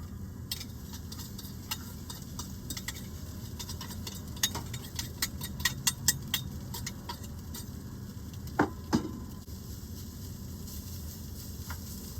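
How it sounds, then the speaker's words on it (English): Soft, steady crackling and sizzling with scattered ticks and pops as grains fry in a hot pan with onion in a campervan, close by and fairly quiet. "let them just sizzle"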